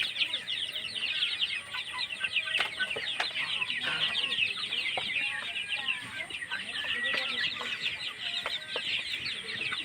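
Desi (native breed) chickens cluck and chatter continuously at close range, overlapping calls from several birds with sharp bursts scattered throughout.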